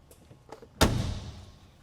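A Mercedes-Benz Gullwing door swings shut with a single heavy, solid thump followed by a brief resonant decay, preceded by faint rustling.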